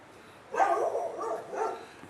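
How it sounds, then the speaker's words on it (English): Dogs next door barking in two short bursts, heard a little way off and fairly faint against a quiet room. "And there goes the dogs again."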